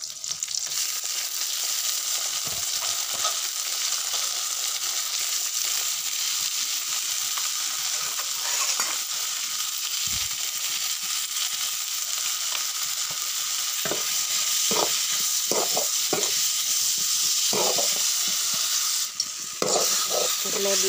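Chopped tomatoes and small pennywort sprigs fry in a pan with a loud, continuous sizzle. Scattered spatula scrapes and clinks grow more frequent toward the end.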